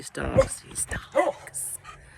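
Several dogs bark and yip in short, uneven bursts, fairly close by, with whimpering between the barks.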